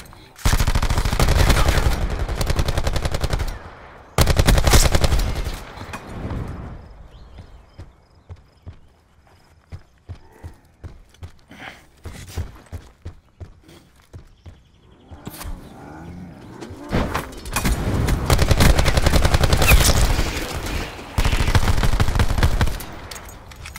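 Gunfire in the Call of Duty Black Ops 4 video game comes in loud, dense bursts at the start and again near the end, with scattered sharp shots and quieter gaps between; no speech over it.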